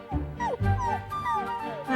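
A newborn puppy yips and whimpers in a short run of high, wavering cries, close and fairly loud, with a few thin whines trailing off.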